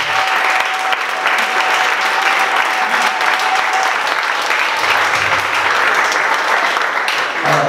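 Church audience applauding and cheering at an evening worship event, a steady, dense wall of clapping that holds loud and unbroken from start to finish.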